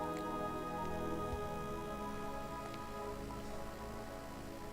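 Rain falling in the video game Deadly Premonition, a soft continuous patter that sits quietly beneath sustained music tones for the whole stretch.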